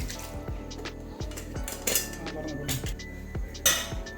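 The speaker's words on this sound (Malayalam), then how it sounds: "അപ്പോൾ ബീഫ് ഇതിലേക്ക് ഒഴിച്ച് കൊടുക്കാം" Beef masala is tipped into a Palakkad-style beef biryani pot for dum, with repeated clinks and scrapes of a metal spoon against the pot at close range.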